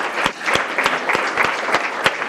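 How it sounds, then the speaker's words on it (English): Applause from a conference audience at an academic publishing event, sparse and fairly close, with individual sharp claps spaced roughly every third of a second rather than a dense roar, no voices over it. "So one more round of applause for the fantastic committee that put everything together."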